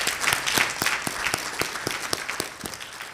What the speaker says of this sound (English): if we could give our participants a final round of applause